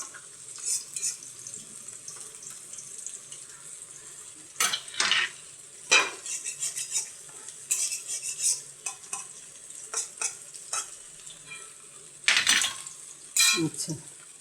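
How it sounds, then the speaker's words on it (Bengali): Banana flower fritters frying in a pan while being flipped, a soft sizzle under intermittent clinks and scrapes of the turning utensil, fairly quiet and close. "আর এখানে বড়াগুলো উল্টে দিলাম। এক পিঠ লাল, এক পিঠ হয়ে গেছে, উল্টে দিলাম। আরেক পিঠ ভাজা হোক।"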